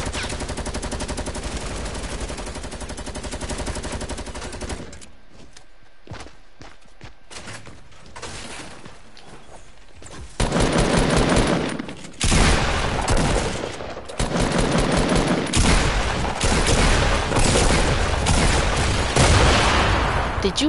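Heavy gunfire in a PS4 shooter video game, with loud dense bursts of automatic fire and booming shots, a quieter lull midway, then sustained rapid volleys filling the second half.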